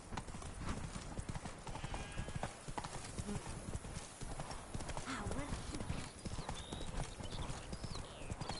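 Roach the horse gallops in Witcher 3, hooves clip-clopping in a fast, steady rhythm throughout, with a brief whinny and voices speaking over the hoofbeats.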